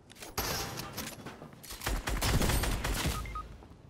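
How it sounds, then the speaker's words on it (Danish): Shotgun fire in the Fortnite video game comes as a rapid, loud burst of booming blasts, one after another with almost no pause, up close and without talk. "Jeg bruger bare shotgunen."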